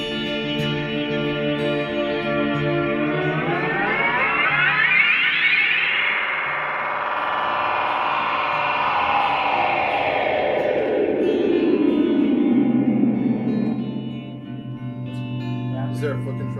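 Electric guitar played through a NU-X pedal set to tap echo delay, sustained chords and sweeping notes repeating and smearing into dense trailing echoes, with a bright, slightly distorted tone that rises, drifts and fades over a long stretch.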